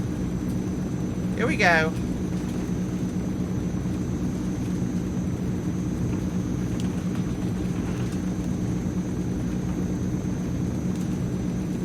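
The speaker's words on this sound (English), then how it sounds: "You feel like you're being propelled through the air by some big, angry turboprops with this aircraft." Transall C-160 twin turboprop engines at takeoff power in a flight simulator, a loud steady drone with deep rumbling throughout, plus a brief rising whine near the start, while someone speaks briefly.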